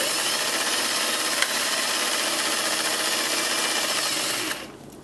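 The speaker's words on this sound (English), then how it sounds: "I'm going to sew back stitch because we want to lock the corners so they don't unravel" A sewing machine runs steadily, back stitching the corners of a Christmas tree skirt with a continuous whirring drone that stops abruptly near the end.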